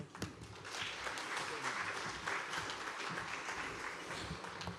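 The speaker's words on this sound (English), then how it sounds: "Please give the panelists another round of applause" Audience applause for conference panelists at a global tourism conference, a steady wash of many hands clapping at moderate level, sustained evenly for the whole stretch without a break.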